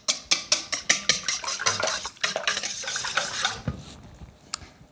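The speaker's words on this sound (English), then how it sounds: "Then we just whisk it together really well, making sure to break up the eggs" Eggs are whisked briskly in a bowl, a rapid rhythmic clatter of whisk against the sides, loud and close, slowing and fading near the end.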